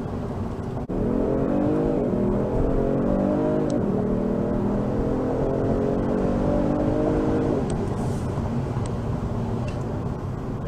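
Genesis G70 3.3T pulling away hard under launch control, a loud sustained engine roar climbing steadily through the revs with a gear shift partway, then easing off near the end; no talking.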